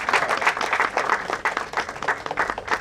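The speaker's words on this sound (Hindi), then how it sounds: "एक बार जोरदार ताली अपने आप के लिए बजा दीजिए" A crowd at a film and music launch event breaks into loud, sustained applause, dense overlapping clapping that carries on steadily with no pauses.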